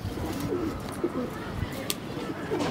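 Silver-eyed high-flying pigeons coo softly and repeatedly in a pigeon-keeping setting, low murmuring calls recurring through steady background noise at moderate distance.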